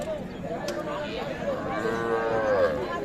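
Calves at a rural cattle market in Bangladesh, lowing moos rising over a busy crowd with people chattering nearby throughout.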